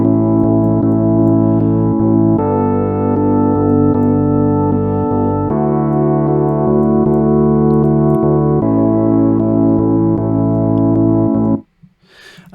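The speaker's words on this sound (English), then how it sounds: "We're actually going to add a small reverb to the sound" Rhodes-style electric piano chords from a Massive synth patch with a small reverb, sustained mellow tones shifting every few seconds, loud and without talk, ending abruptly near the close.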